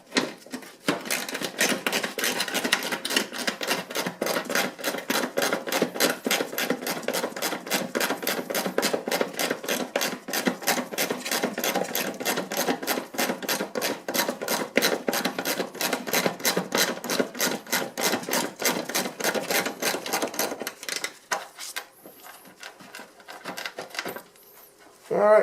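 Bolts on a classic VW Beetle's IRS rear suspension being worked loose with a rapid, even ratcheting clatter that runs for about twenty seconds, then stops, leaving faint handling noises.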